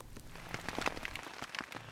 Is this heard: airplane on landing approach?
no